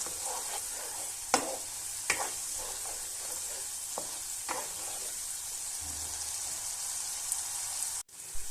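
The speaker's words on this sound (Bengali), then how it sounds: "এই সময় আঁচটা কম রেখে একটু ধৈর্য ধরে মশলাটা কষাতে হবে।" Spice paste for a vegetarian cauliflower curry sautéing gently over a low flame, a soft steady sizzle with occasional sharp scrapes and stirring knocks from the spoon, close and alone with no talk.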